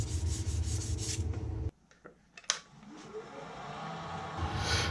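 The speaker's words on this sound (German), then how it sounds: "Bei stehender Maschine erfolgt der letzte Schliff ebenfalls mit Körnung 240 in Faserrichtung." Hand sanding of a wooden pen blank with 240-grit paper along the grain, the lathe stopped. A steady rasping rub runs loud, pauses briefly in the middle, then resumes softer and builds again.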